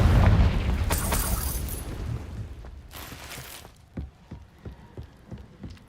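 A Confringo fire spell from Hogwarts Legacy bursts in a loud blast at the start, then its rumble decays into scattered crackles and small pops over the next few seconds.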